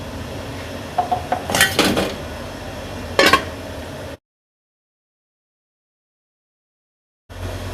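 Metal utensils clink against a pot while dhaba-style aloo keema is served: a few quick scrapes and taps close by, then a louder knock, followed by a stretch of silence.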